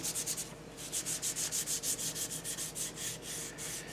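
Sandpaper rubbing back and forth over the rounded edges of a wooden school desk seat back, a quick steady rhythm of close, rasping strokes that continues without pause.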